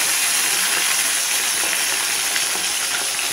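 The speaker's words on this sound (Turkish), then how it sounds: "Bu şekilde kızartacaksın, tamam mı?" Mullet fish frying in a pan makes a close, steady sizzle and crackle throughout, with small pops and no voices.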